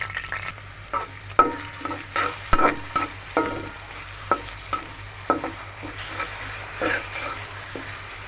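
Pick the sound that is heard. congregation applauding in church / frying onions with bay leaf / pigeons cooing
frying onions with bay leaf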